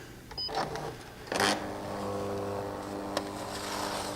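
A tattoo stencil copier machine running a stencil copy on a dark setting: a steady mechanical motor hum with a couple of brief clicks and feed noises, close and continuous.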